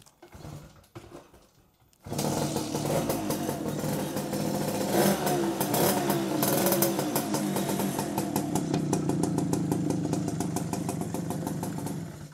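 A motorcycle engine, on a used bike for sale in Indonesia, starts up after a quiet moment and runs steadily close by, with a rough, clattering idle and occasional revs.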